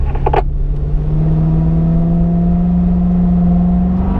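A car engine pulling hard out of a track curve in 4th gear, a steady loud drone whose pitch climbs slowly as it accelerates, with a brief clatter at the start.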